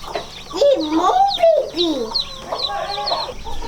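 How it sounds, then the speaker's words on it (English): Chickens cluck and squawk close by, a string of rising and falling calls over a few seconds with no talking. "What are your plans for those chickens?"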